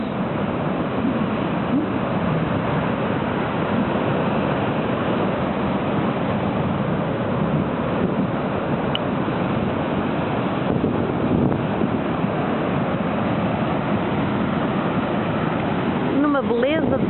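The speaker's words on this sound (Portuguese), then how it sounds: "ondas de marés vivas" Spring-tide ocean waves roll in at Cabo do Mundo beach in Matosinhos. Surf roars continuously and loudly, mixed with heavy wind buffeting, with no distinct breaks.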